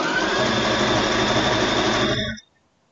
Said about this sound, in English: you don't have to listen to my sewing machine for the whole stream